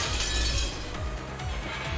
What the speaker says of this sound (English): Mammon, Beelzebub, and Asmodeus smashed to pieces and rolled across the floor.